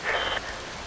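Steady rain hiss falls in Metal Gear Rising: Revengeance, a brief brighter wash of drops near the start before easing to a constant, even patter with no voices.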